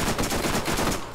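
Rapid SMG fire in the Borderlands video game, a fast, even stream of punchy shots rattling in quick succession, loud and close, tapering off at the end.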